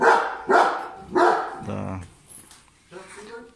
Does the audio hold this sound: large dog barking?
yes